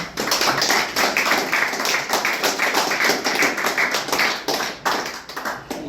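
An audience at a philosophers' celebration claps steadily, a dense, close patter of many hands sustained throughout without talk.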